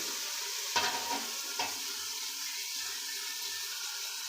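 Ginger garlic paste starts catching on the bottom of a hot pan and gets stirred quickly, a quiet steady sizzle with a couple of sharp scraping knocks near the start.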